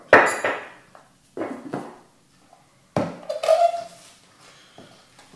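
Brioche dough with sugar being worked in a bowl: scattered clinking and knocking strikes, a few sharp taps in quick bursts separated by quiet pauses.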